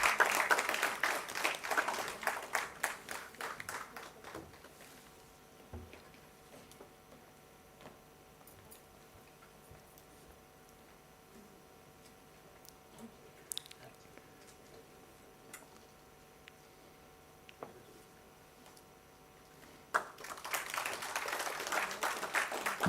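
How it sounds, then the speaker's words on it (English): Scattered audience clapping at a science poem prize ceremony in Goa, moderately loud at the start, thinning to near quiet with occasional isolated claps, then rising again near the end. "Big round of applause."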